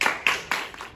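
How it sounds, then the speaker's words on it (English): A school assembly audience claps for the house captains: a short burst of three or four quick, bright hand-clap pulses from a crowd of children in a hall. "Give our Brooks captains and vice captains a big clap."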